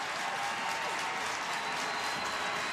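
A home crowd at a women's professional soccer match applauds and cheers steadily, a dense continuous wash of clapping throughout the stadium with no break.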